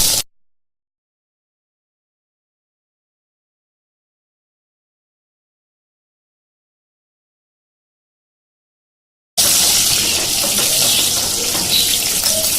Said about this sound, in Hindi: ये देखिए तेल गर्म हो चुका है। अब इसमें हम ये मिर्चें तलेंगे।